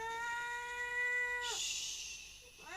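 A pet cat gives two drawn-out meows, the first a long steady harmonic call that slides down into a breathy hiss-like tail, then a shorter rising meow starts near the end; close and clear with no talk.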